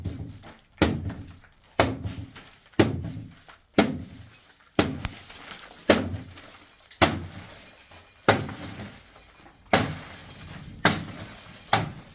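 Car window glass coated with anti-burglary security film is struck repeatedly, about a dozen sharp impacts roughly one per second, each a loud crack and crunch followed by brief clinking, close up with no talking.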